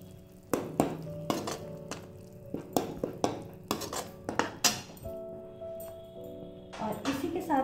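Metal spoon clinking and scraping against a pan while chili and turmeric powder are mixed in, a series of sharp repeated clinks at close range with a low steady hum beneath.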